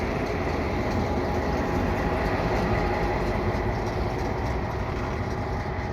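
A Herzog maintenance-of-way multi-purpose rail vehicle creeps along the track, a continuous loud rumble and low engine drone with faint wheel noise, steady throughout and with no voices.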